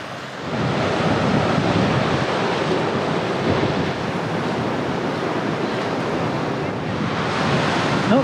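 Waves wash against a breakwater in Newcastle, Australia, as a continuous roar of surf mixed with gusting wind buffeting the microphone, steady and fairly loud throughout.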